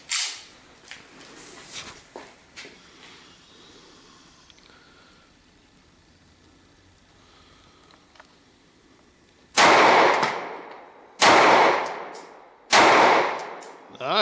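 Three sharp, loud Glock 26 pistol shots ring out at a shooting range, spaced about a second and a half apart, after quieter handling noises and brief talk.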